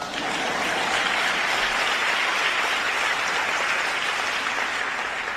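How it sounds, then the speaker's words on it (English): Steady, dense audience applause in a hall at an event on American space exploration, sustained and even at moderate loudness throughout, with no voices on top. "That's an applause line."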